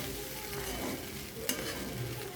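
Poha being stirred in a pan by a mother, soft scraping strokes over a gentle sizzle with one brief knock near the end, no voices.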